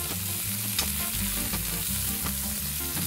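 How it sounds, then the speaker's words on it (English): Beef frying in a pan gives a loud, steady, close sizzle with constant crackling hiss and occasional small pops, heard alone without talk. "Here's your neat meat cooking neatly."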